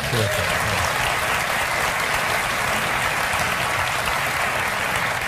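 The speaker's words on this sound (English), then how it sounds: "Wasn't that resounding an applause for her?" Sustained, loud applause from a studio audience at a late-night talk show taping, a dense steady wash of clapping that fills the whole stretch without pause.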